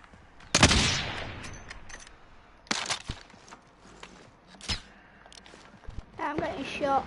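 Gunfire in the video game Warzone, a loud burst of shots followed by scattered single cracks and short bursts, with a voice speaking in the later part.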